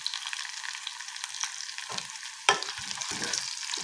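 Cumin, cloves and ginger crackling in hot oil for a dal tempering, a bright continuous sizzle with a sharp burst midway and rustling stirs, close and without talk.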